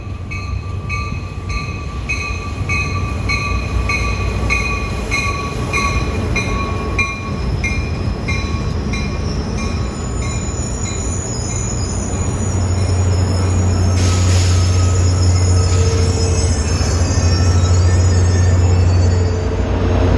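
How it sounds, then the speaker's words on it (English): A Caltrain local train, number 511 from San Jose to San Francisco, passes close by the station with a loud, sustained rumble, rhythmic wheel clatter and high metallic wheel squeal. "here comes train 511."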